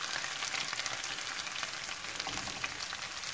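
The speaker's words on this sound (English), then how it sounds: "So we're just going to saute those onions over the next 5 to 8 minutes, depending." Onions gently sautéing over low heat in a pan for dal makhani, a steady, soft sizzle that holds at an even level throughout with faint crackles and no voices.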